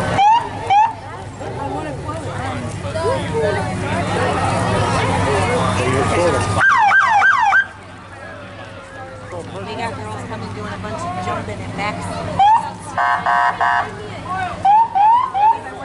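An old police car's siren wails in repeated rising and falling sweeps at a street festival parade, loud and close, with crowd chatter and voices throughout and a sudden drop in level partway before more short siren bursts.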